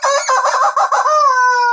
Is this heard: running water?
no